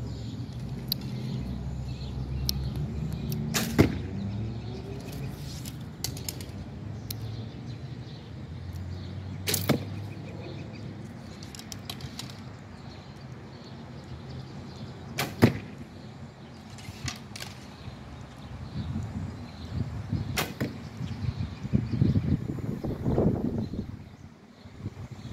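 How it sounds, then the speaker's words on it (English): Arrows from a Falcon camouflage bow thud into a deer target outdoors, several sharp separate impacts spread over steady background noise. "Shooting a few arrows into the deer target"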